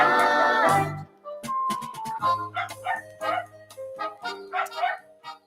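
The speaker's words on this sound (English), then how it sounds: "Steffi the dog is cheering for Dad" A dog named Steffi barks and yips in short, lively bursts, ringing out close and loud over a steady musical backing, with one longer burst at the start and then quick repeated yaps.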